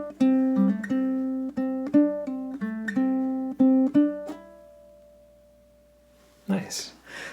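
Ukulele picks out a short blues solo phrase of plucked single notes and bends in an even rhythm over about four seconds, ending on a sustained ringing note before a brief burst of noise.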